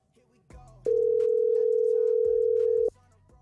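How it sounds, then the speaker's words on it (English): A telephone line tone on an outgoing call sounds as one long steady electronic beep lasting about two seconds, loud and clean, framed by faint low background sound. "See if it's ringing now."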